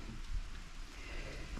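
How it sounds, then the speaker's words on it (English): Rain starting to fall outdoors on a workshop yard, a steady soft patter with a faint low rumble, continuous and even throughout, without talking. "it's starting to rain"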